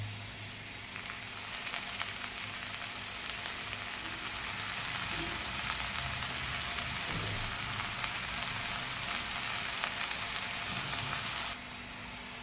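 Finely chopped dill leaves frying in a pan with onion and chilli, a continuous crackling sizzle that holds steady for several seconds and then drops slightly near the end, with no voices.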